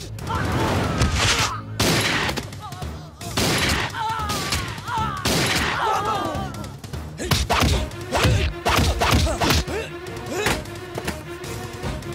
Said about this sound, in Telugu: అక్కడ కాల్చు.